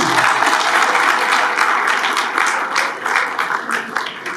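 Dinner audience at a charity fundraising dinner in Birmingham applauding steadily, a dense, full-room clapping that holds evenly for several seconds and thins slightly toward the end.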